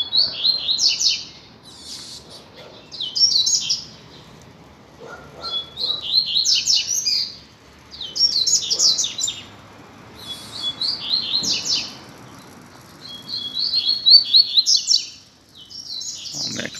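A pair of Coleiro (Double-collared Seedeater, Sporophila caerulescens) sing outdoors on a street, repeated bright twittering phrases in bursts every couple of seconds, fairly close and clear over faint background noise.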